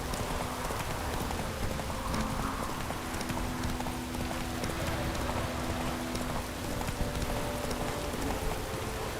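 Geralt's horse Roach trots in The Witcher 3, a steady patter of hooves under a constant hiss of rain, with faint tonal game ambience drifting underneath throughout.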